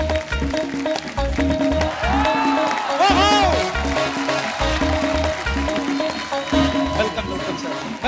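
Studio audience on a Hindi comedy talk show applauds and cheers to welcome actor Jeetendra and producer Ekta Kapoor, a steady crowd roar with music playing over it.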